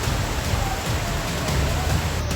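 Heavy rain pours steadily during flooding in Junagadh, a dense, continuous hiss of downpour with no pauses.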